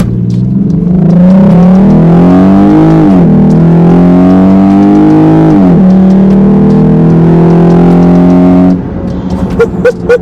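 A 2020 Jeep Grand Cherokee V6 fitted with an MMX throttle body and K&N cold air intake accelerates hard in regular drive mode, its engine note climbing loudly through several rising sweeps before easing off to a quieter idle near the end.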